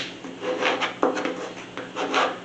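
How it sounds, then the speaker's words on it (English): A squeegee is pressed and dragged over Oracal 651 adhesive vinyl decal material, making soft, close scraping and rubbing strokes in uneven bursts, with a sharper scrape midway and no talking. "So I'm going to go ahead and burnish this down."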